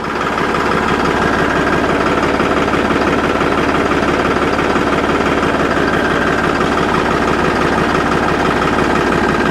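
A tractor engine idles loud and close with an even, throbbing rumble while its hydraulic jack lifts a 32 by 7.5 foot trolley. The drone is continuous, with no pauses or speech.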